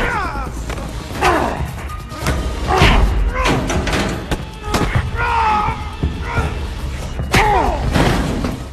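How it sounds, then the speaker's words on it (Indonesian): Bare-handed fistfight in an action film, with a run of heavy thuds, slams and impact hits at irregular intervals, mixed with shouts and voices throughout. "akhirnya mereka harus bertarung dengan tangan kosong"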